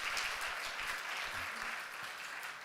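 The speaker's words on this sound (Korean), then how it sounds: "감사의 박수 드리겠습니다" At a Korean church service, the congregation gives sustained applause of thanks and welcome. The clapping is broad and even, heard from the room at a modest level.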